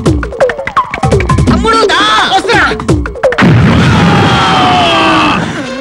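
A bomb goes off in a Telugu movie scene, a heavy burst of noise and debris that swells after a stretch of dramatic music and lingers as a rumbling, crackling wash.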